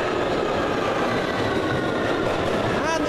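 A London Underground Victoria line train ride gives a loud, steady interior rumble and roar of wheels on track, with a rising squeal of wheels near the end.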